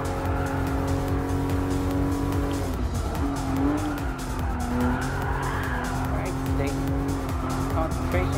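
Toyota GR Supra RZ in Gran Turismo Sport racing at speed, engine droning with squealing, skidding tires throughout, loud and continuous, while a commentator talks over it.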